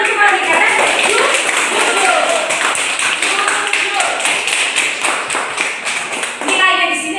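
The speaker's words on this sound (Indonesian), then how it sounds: "Oke, tepuk tangan kembali karena jujur." A group of children and a teacher clap their hands together in a classroom, a dense run of quick, sharp claps that lasts several seconds, with some talk mixed in.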